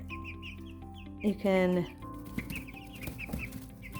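Four-week-old chicks chirp in a steady stream of high peeps, with one louder squawk partway through. A person talks briefly over them.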